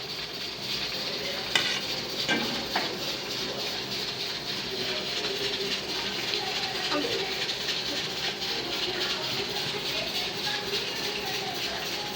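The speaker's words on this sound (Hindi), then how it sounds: "प्याज़ों को वक्त तक पकाएंगे जब तक इनका कलर लाल ना हो जाए अच्छे तरीके से" Onions fry in a pan after Kashmiri chili, red chili, turmeric and kalonji have gone in, giving a steady hiss with a few scraping stirs near the start. The sizzle is moderately loud and continuous, with no talk.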